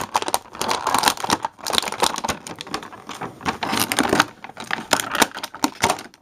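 Plastic tie being worked loose from a boxed six-inch Young Justice Invasion Batman action figure, heard as close, irregular crinkling and scraping of plastic packaging in bursts with brief pauses.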